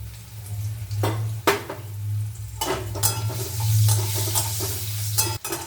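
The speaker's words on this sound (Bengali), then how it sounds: "আলুটা ভাজা হোক" Diced potatoes fry in a pan with black cumin seeds for a Bengali koi fish curry with aubergine and bori. A low steady sizzle runs throughout, broken by a few sharp scrapes and clinks of stirring, close and fairly quiet.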